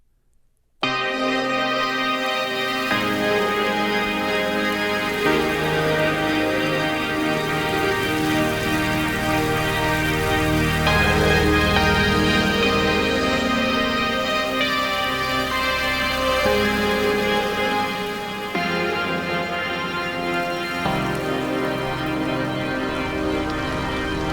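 A dark, rain-like synthesizer texture from the Omnisphere 2 patch Blue Horizon swells in after a brief silence and sustains as a dense, loud, shifting wash with no voices.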